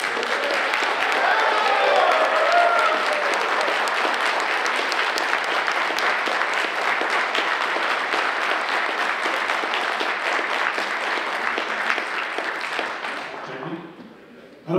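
Audience at a Burnaby South by-election candidates' debate breaking into sustained applause, loud, dense clapping that holds steady for over ten seconds before fading out near the end.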